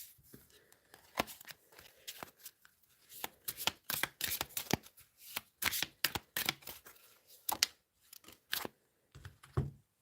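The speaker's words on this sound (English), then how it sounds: "I can't pick the cards up." Tarot cards being handled and shuffled at close range, with irregular bursts of crisp riffling and slapping spread across the span, separated by short quiet gaps.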